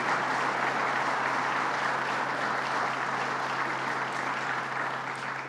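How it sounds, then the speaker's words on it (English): A crowd at a New York jobs announcement event claps in a dense, sustained round that fills the room and slowly tapers toward the end. "Let's give him a round of applause, Howard Zemsky."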